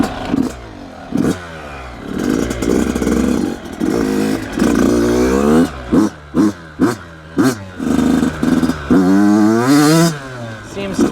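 Yamaha YZ85 two-stroke dirt bike, nearby and loud, revved in repeated sharp throttle blips that rise and fall, followed by a string of quick staccato bursts and a final long rev.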